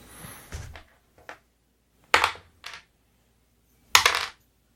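Dice rolled onto a table during a tabletop role-playing game session, giving several short, separate clattering bursts with quiet gaps between them, fairly close and with no talk over them.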